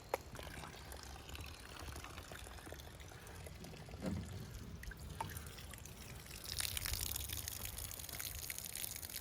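Water pours and trickles steadily as it drains out of an old fishing boat, a continuous splashing flow that swells louder near the end, with no talking over it.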